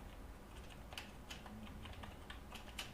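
Keys clatter on a computer keyboard as a search for Sticky Notes in the Microsoft Store is typed, a quick, uneven run of soft taps, faint and close, with no speech.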